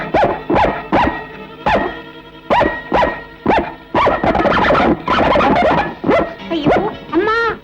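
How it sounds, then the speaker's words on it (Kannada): A dog barks repeatedly in sharp, close bursts with short gaps, the yelps growing busier and more agitated toward the end, some sounding whiny, with no speech over them. "ನಾಯಿ ಹತ್ರ ಹೋಗ್ಬೇಡ"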